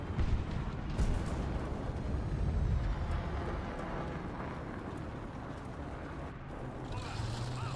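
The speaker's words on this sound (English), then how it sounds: "I certainly hear an engine over there." Rumbling tank engine in the War Thunder video game, a steady low drone that fills the whole stretch alongside dull booming noise, with no talk.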